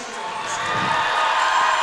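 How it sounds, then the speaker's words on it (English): A big, pepped-up crowd at a girls basketball semi-final in a gym hums and cheers in a steady, broad roar that swells slightly toward the end. "Letcher Central with a big old crowd here. They are pepped up and ready to rock and roll"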